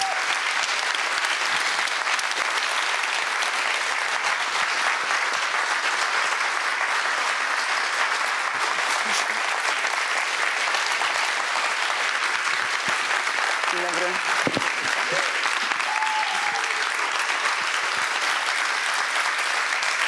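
An audience in Kraków claps loudly and continuously for a film's actors and director, a dense, unbroken wall of applause from many hands.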